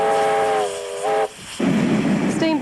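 An R-class steam locomotive gives a long, loud multi-tone whistle, then a second short blast, followed by a strong rush of hissing steam, close by.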